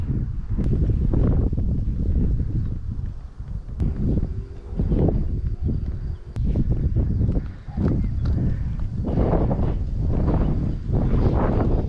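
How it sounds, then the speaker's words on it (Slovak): Strong, gusty wind blows across an abandoned, partly collapsed site by a small pond in a restricted zone, roaring steadily and buffeting the microphone with loud, continuous rumbling and no voices. "Vietor jak šalený"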